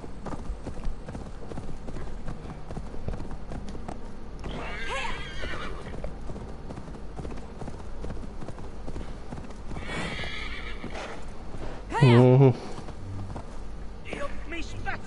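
Horse in the video game Assassin's Creed Valhalla, steady clip-clop of hooves running throughout with two breathy snorts and a loud, short neigh near the end, while someone talks quietly over it.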